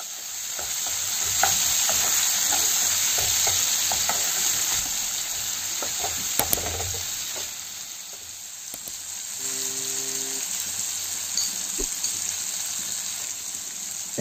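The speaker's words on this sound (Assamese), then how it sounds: "এতিয়া মই ইয়াতে কাটি ৰখা বিলাহীটো এড কৰিম আৰু আকৌ ইয়াক অলপ দেৰি কাৰণে ভাজি ল'ম" Chicken pieces and chopped tomato frying in a pan, a continuous close sizzle with scattered scraping and clinking as the mixture is stirred.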